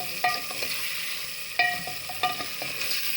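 Ingredients for aloo chicken korma frying in a pot, a continuous close sizzle broken by a few sharp scraping clacks of a stirring spoon against the pan, with no talking.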